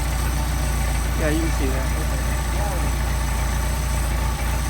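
Warmed-up Mercedes 190SL engine idling on Solex carburetors, a steady close low rumble with an even pulse, while someone speaks briefly over it.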